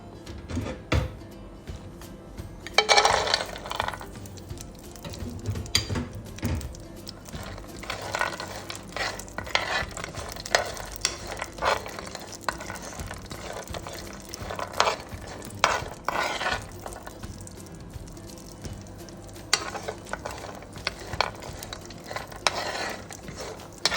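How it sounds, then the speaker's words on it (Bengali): Cashews and raisins frying lightly in melted ghee, a soft crackling sizzle with intermittent stirring and utensil clatter throughout, fairly quiet and without talk. "মেল্ট হয়ে আসলে আমি যে বাদাম আর কিশমিশগুলো দেখিয়েছি ওগুলো আমি একটু হালকা করে এই ঘিতে ভেজে নিব"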